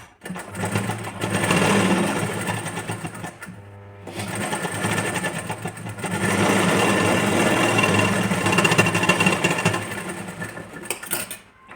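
A sewing machine stitches a strip onto a blouse in fast, steady bursts, running for a couple of seconds, pausing briefly, then running again for a longer stretch, close and clear with no talking.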